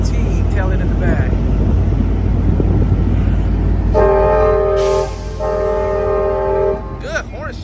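Amtrak Capital Corridor train 737 at Santa Clara station sounds two long, loud horn blasts over a steady rumble of the passing train and outdoor background noise.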